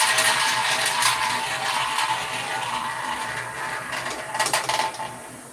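A casino roulette wheel spins as the ball rolls around the track in a continuous whirring, rattling rush that slowly fades, with a few brighter clicks toward the end.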